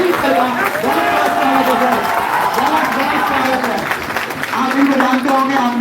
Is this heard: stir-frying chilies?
no